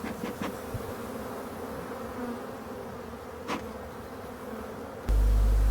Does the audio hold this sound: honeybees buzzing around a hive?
yes